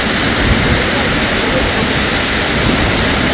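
Ranpat waterfall in Ratnagiri during the monsoon, a loud, continuous broadband roar of rushing water that fills the whole scene without pause.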